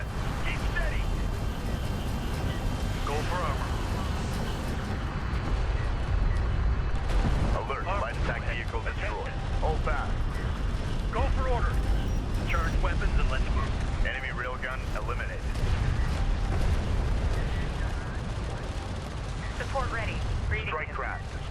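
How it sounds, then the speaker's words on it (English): Railgun fire and explosions from a desert battle in Homeworld: Deserts of Kharak, a dense, steady roar of combat with repeated sharp impacts throughout, mixed with game voice callouts. "Hostile railguns opened up."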